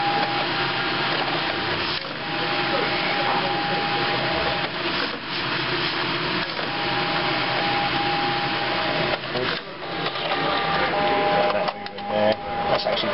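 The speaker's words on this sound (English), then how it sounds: "Hear that fan starting up. So it's the vacuum fan that holds the paper down flat" A steady whirring vacuum fan drone from an HP DesignJet 500 plotter runs continuously with a faint tonal whine, broken by a few brief clunks and rattles near the end.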